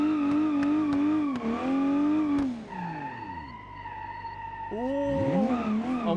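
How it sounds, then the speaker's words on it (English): A factory drift car in the BeamNG driving game, set in a parking garage, revs its engine with a steady whine, then slides into a long, loud tire skid before the engine rises again. "we are in the drift, one of the factory drift cars here in Beam"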